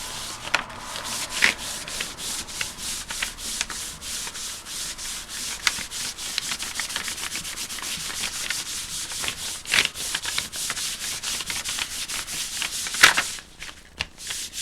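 Hands rub a paper bag treated to look like faux leather, giving a steady dry scratchy rustling that continues close and fairly even for the whole stretch, with a few sharper scuffs and no talk.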